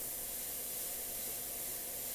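A paint spray gun gives a steady, breathy hiss as the paint starts to dry in its cup, so it sprays poorly. The spray is fairly soft and continuous, with no talking over it.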